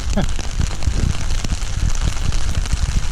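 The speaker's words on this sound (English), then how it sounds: "It's raining harder than it was" Heavy rain in Sitka, Alaska patters and splashes steadily on surfaces close by, a dense, continuous downpour with scattered louder drops and a voice heard briefly.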